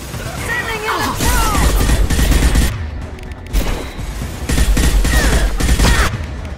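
Gunfire during combat in the Mass Effect 2 video game, with dense, loud bursts of automatic fire and booming impacts running almost continuously, broken by a brief lull midway, mixed with other battle effects.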